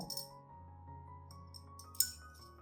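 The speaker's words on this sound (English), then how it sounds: "Prepare a clean glass cup." A clean glass cup is set down, giving a couple of faint clinks at the start and one brighter clink near the end over a low, steady hum.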